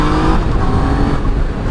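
2020 Yamaha MT-09 motorcycle pulling away in first gear, a loud close engine roar that holds steady through the brief burst.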